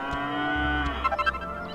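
A cow in the video game Dragon Quest VIII lets out a long, loud moo with a pulsing, wavering ending, heard alone and close with no talk over it.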